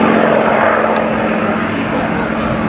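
A P-51D Mustang with a Rolls-Royce Merlin engine flies past at an Essex military vehicle rally, its engine giving a continuous, loud, rough broadband drone.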